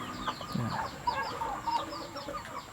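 Chickens cluck in a steady scatter of short calls at moderate distance, with faint farmyard ambience and no talk.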